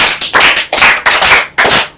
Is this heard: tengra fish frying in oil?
no